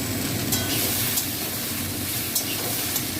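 Ridge gourd, pumpkin and potato with stalks frying in a little oil, a steady loud sizzle filling the whole stretch with faint occasional pops and stirring clicks.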